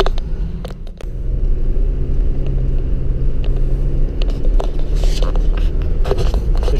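A Chevy Colorado diesel pickup truck engine rumbles loudly from inside the cab as it accelerates and shifts, with steady road noise and occasional scrapes and knocks.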